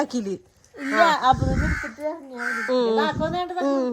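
A crow caws repeatedly at close range, loud harsh calls in quick bursts, with voices talking close by.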